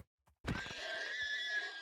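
A single white horse in a video game neighs loudly and close, a long shrill whinny following a couple of faint soft thumps.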